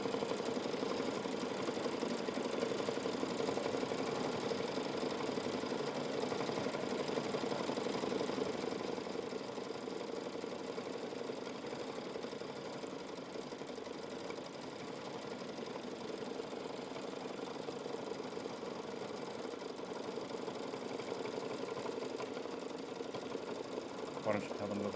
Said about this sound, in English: Doing some fun little decorative stitches.